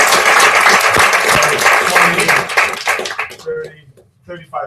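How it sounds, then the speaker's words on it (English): A room full of people bursting into dense applause after a short pitch talk, loud and sustained for about three seconds, then tapering off into scattered claps and a voice. "Give them a round of applause."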